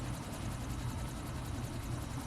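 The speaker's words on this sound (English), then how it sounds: "There's the chopper." A helicopter in the Quantum Break video game: a continuous, even rotor-and-engine drone that holds steady at moderate volume, with no voices over it.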